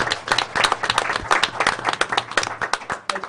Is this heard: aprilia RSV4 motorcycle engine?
no